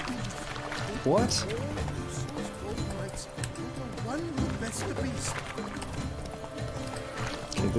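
Roach the horse galloping in The Witcher 3, rapid hoof clip-clops moving along under game voices and a talking player, with a brief neigh-like cry near the start, fairly quiet overall.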